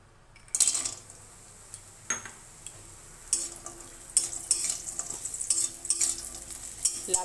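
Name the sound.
lentil dumplings (bori) frying in oil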